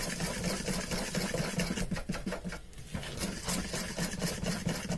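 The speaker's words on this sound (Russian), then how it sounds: "Комбайн у меня хороший." A kitchen food processor mixes pancake batter of milk and a pinch of salt, a loud continuous motor whir with a rapid rattling churn throughout.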